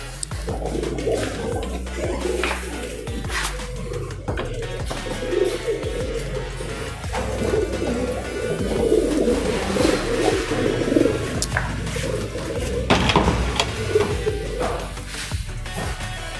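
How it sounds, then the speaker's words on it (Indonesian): A breeding bird coos in a long run of soft, low calls repeated at a steady rhythm for about sixteen seconds, over faint background noise. "indukan selanjutnya ini dengan nama burung Galaxy"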